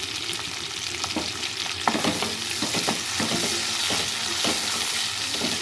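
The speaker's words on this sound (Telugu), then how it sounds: "పచ్చిమిర్చి, ఆనియన్స్ వేసేసాను." Green chilies and onions fry in oil in a pan for gonguura cooking, a steady close sizzle with repeated scraping stir strokes throughout, no voices.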